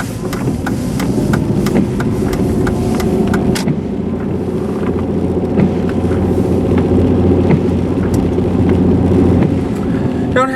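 A car rolls through the residential streets of Alpine Village in Monroeville, Pennsylvania, turning onto Interlaken Drive, its engine a steady low hum with road rumble and occasional faint clicks throughout.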